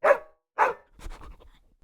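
Two dogs let out two sharp, close barks in a row, followed by softer panting and whimpering noises.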